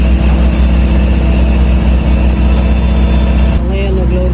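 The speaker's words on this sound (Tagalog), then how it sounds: "Ito na yung ating generator." A SharkPro 25ES SmartGen diesel generator runs with a steady, loud low-pitched engine drone, someone talking over it.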